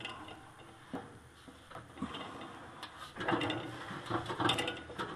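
Hand wrench ratcheting a bolt loose on a furnace blower motor, quiet clicking strokes that grow busier and slightly louder toward the end, close by with no talking.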